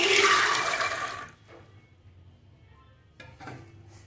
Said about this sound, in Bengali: এবারে দিয়ে দেবো জল, পরিমাণ মতো জল দিয়ে দেবো